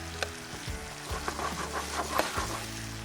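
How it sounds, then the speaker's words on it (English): A fish curry sauce with coconut milk sizzles and bubbles in a pan, close and steady, with occasional scrapes and stirs over the frying. "Now with the sauce, got some coconut milk, just a bit, not too much. Just let that cook away until everything sort of disintegrates."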